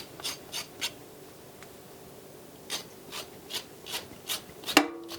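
A blade scrapes skin off a vegetable for chicken and vegetable soup in a series of short, close rasping strokes at a steady rhythm, with a pause midway and a sharper scrape at the end.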